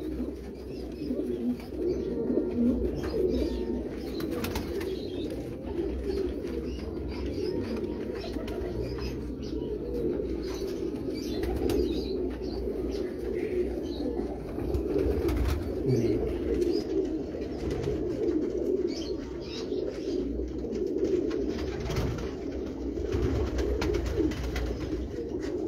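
Breeder pigeons, a prized '79' line kept in a Karachi loft, coo steadily and continuously for the whole stretch, a dense overlapping murmur of many birds close by with occasional faint chirps.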